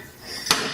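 A soil compaction hammer drops once onto a layer of soil in a mould, giving a single sharp, close knock with a brief ringing tail.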